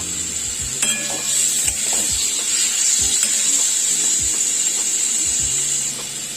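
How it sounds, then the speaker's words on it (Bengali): Marinated chicken fries in a pan over a low gas flame, giving a steady, even sizzle with a few clinks and scrapes as it is stirred, close up and with no talking. "গ্যাসের ফ্লেমটা আমি লোতে রেখে চিকেনগুলো 2 মিনিট ভাজবো"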